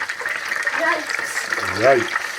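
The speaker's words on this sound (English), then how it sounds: "I'll fry these" Potato chips sizzle in hot oil with a steady, bubbling crackle, while someone speaks briefly over the frying.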